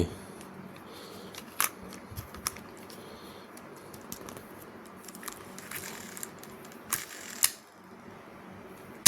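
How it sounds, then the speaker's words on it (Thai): Faint clicking and ticking from the spool mechanism inside a Deukio DC Plus baitcasting fishing reel, a steady light ratcheting texture with a few sharper clicks, close and quiet. "น่าจะเสียงสปูนข้างใน"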